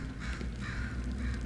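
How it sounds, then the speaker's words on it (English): A crow in the video game Portal 2 gives three harsh caws in a row, fairly loud, over a steady low background hum with no talking. "Crow."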